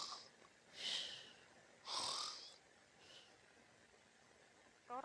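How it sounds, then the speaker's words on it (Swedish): Snoring from a teddy bear in a bedroom at night: a few soft, breathy snore-like snorts and wheezes spaced about a second apart, faint against a quiet hiss. "Det är bara Nallen som snarkar."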